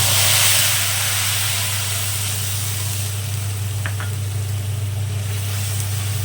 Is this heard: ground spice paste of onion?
yes